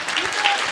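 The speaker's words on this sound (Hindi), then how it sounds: "जो भी ताली बजा रहे हैं" An audience applauds steadily in a dense, continuous patter of clapping, close and fairly loud, with a voice speaking over it.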